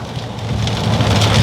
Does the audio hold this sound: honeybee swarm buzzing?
no